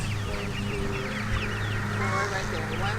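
A crowd of chickens and pullet chicks in a greenhouse clucking and peeping constantly, many birds chirping over each other at close range with a steady background hum.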